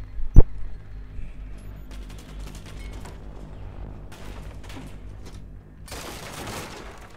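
A shotgun pistol fires in the tactical shooter Rainbow Six Siege, one sharp loud blast at the start followed by scattered quieter shots and rumble, then a harsher burst near the end.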